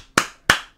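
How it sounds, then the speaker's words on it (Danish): Two sharp hand claps about a third of a second apart, close and loud, with the start of a third cut off at the end; no talk over them. "Klap."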